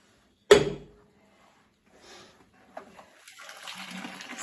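A sharp thud of a pot being set down comes first, then after a short pause cooked pasta water is poured off from the pot, a splashing, rushing drain that builds and continues to the end.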